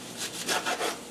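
A knife cuts through a plantain with four or five quick rasping strokes in a steady back-and-forth rhythm, close and with no other sound.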